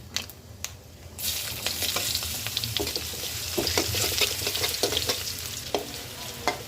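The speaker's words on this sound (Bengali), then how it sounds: "আমি এখন কালো জিরা ফোড়ন দিয়ে দিব। এটা একটু ফোড়ন হয়ে গেলে দিয়ে দিব রসুন কুচি।" Black cumin and chopped garlic tempering in hot oil for a sweet pumpkin dish: a quiet start, then a sudden sizzle that swells and stays loud and close, broken by spatula scrapes and taps.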